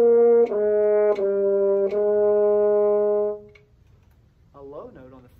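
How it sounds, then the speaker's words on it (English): A French horn plays three sustained notes across its typical range, each held about a second, full and close, before a voice briefly starts speaking. "Typical range on the French horn sounds like this."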